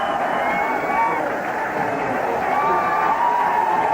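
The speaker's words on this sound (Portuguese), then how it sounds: "Fica a festa da torcida brasileira" Brazilian fans cheering and celebrating at the Japanese Grand Prix podium, a dense distant crowd roar holding steady with babble woven through it.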